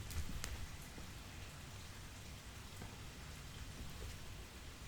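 Steady heavy rain falling ahead of a big thunderstorm, a constant even hiss of downpour at moderate distance with no voices.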